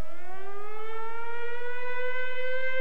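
A wartime civil defense air raid siren in California wails alone, one long loud tone slowly rising in pitch, rich in harmonics and steady throughout.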